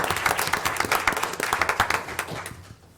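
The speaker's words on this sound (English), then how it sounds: "Let's give them a round of applause" An audience at a county board of education meeting gives a round of applause, with dense, fairly close clapping lasting a few seconds before tapering off.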